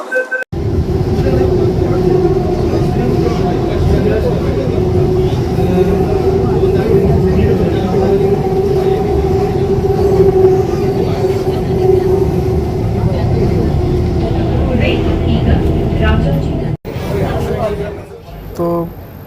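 A Bangalore metro train ride heard from inside a crowded carriage: a steady loud hum and rumble of the moving train, fading briefly near the end, with nearby talking over it.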